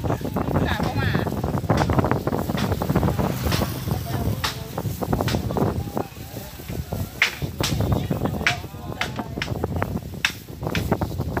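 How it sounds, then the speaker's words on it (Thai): Cool wind gusts buffet the microphone outdoors in uneven rumbling bursts, mixed with people talking nearby. "ลมเย็นดีเนาะ"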